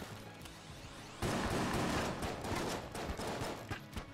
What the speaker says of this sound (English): Ooh, you were shooting fast there